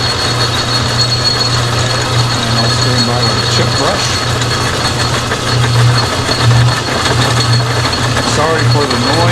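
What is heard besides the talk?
old metal lathe with belts and gears running, rattling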